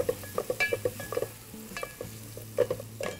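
Chopped onions fry for mutter paneer until golden brown, a soft sizzle under repeated metallic clinks and scrapes of a spoon stirring around the pan in an uneven rhythm.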